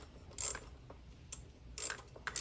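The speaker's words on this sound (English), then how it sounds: "Go ahead and get this top bolt snug." A ratchet clicks in short bursts while snugging a top bolt on the aluminum throttle body of a 1994 Mustang GT 5.0, close and fairly quiet, with pauses between strokes.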